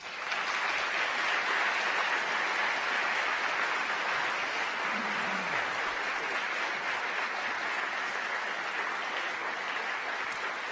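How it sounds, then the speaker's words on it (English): Sustained applause from a large audience greeting a gay men's chorus at a Pentagon Pride event, a dense, steady wash of clapping that holds at even loudness from start to finish with no talk over it. "Please start by joining me in giving a round of applause to the Rock Creek Singers."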